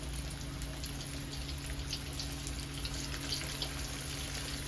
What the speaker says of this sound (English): I'm gonna drop my fish in, okay? And it's gonna start frying immediately